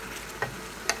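Meat frying in melted butter in a pan, a soft continuous sizzle with two brief sharp clinks of a utensil.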